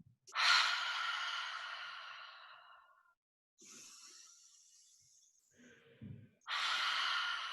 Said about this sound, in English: you're going to breathe in and allow your body to get as much oxygen as you can